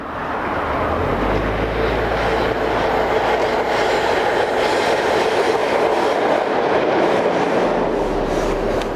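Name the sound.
CFL class 3600 electric locomotive number 3612 hauling a train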